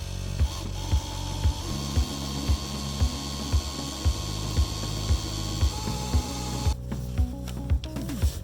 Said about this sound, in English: we're just going to drill a hole right inside of the furnace room and bring our wire